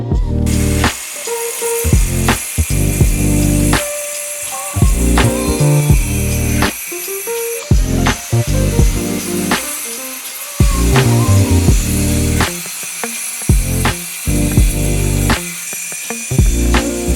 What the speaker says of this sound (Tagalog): I always prefer using electric grinder instead of the typical tile cutter